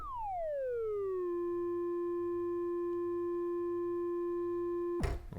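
Arturia ARP 2600-V software synthesizer oscillator tone whose pitch is shaped by an envelope: a clean tone sweeps down over about a second, then holds steady before ending in a brief burst of noise.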